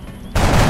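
Gunfire from the XCOM: Enemy Within video game erupts suddenly after a quiet lead-in, a loud burst of shots that fills the rest of the moment.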